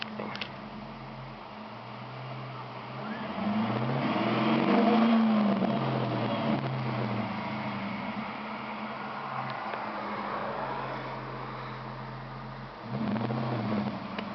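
A 2006 Dodge Charger R/T with a Hemi V8 idles close by, then gets a few gentle blips of the throttle that swell and fall back, with a steady low rumble between revs and no talk.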